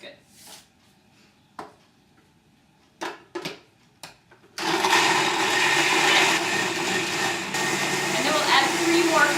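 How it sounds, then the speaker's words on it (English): A few short voice bursts, then a blender making almond milk kicks on and runs loud and steady to the end, its motor whirring with a grinding churn. "you can get the blender started"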